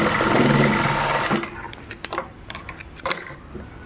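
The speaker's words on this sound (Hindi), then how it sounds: "ये पहले एक कच्ची सिलाई मारेंगे हम इस तरीके से।" A sewing machine runs a loose basting stitch on a kameez, a fast, close mechanical whirr for over a second, then stopping. Light clicks and handling taps follow.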